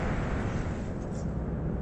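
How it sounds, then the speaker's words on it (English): A truck passing outside produces a continuous low rumble, steady and fairly loud, filling the whole short stretch with no talk over it. "Sorry for the noise. It's another truck"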